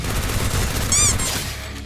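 Rapid gunfire from a Free Fire battle royale match, a dense dry crackle of shots running steadily through the whole stretch, close and loud, with a brief whistling electronic tone partway through.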